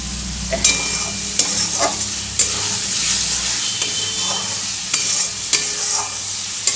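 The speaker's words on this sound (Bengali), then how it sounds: "তেল যতক্ষণ না ছাড়বে ততক্ষণ একটু লো ফ্লেমে দিয়ে কষিয়ে নেবে" Spice paste fries in oil over a low flame for a yam and potato curry, giving a loud, continuous sizzle broken by regular sharp scrapes of the spatula as the paste is stirred, with no talking.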